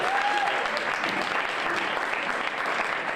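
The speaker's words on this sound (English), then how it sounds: "let's give a round of applause to our host for the evening, Whiskey Creek Pub, for having us in here" Steady applause from a comedy club audience at Whiskey Creek Pub, dense and sustained clapping filling the room for about three seconds, close and fairly loud with crowd murmur underneath.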